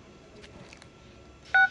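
A phone number is dialed on a mobile phone, with a few faint key taps followed by a single loud, brief dial tone near the end.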